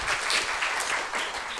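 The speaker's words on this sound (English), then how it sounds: "Let's give Ken, the judge, a round of applause." A crowd at a magic show applauds the volunteer judge, a brief steady burst of many hands clapping, fairly close and uninterrupted.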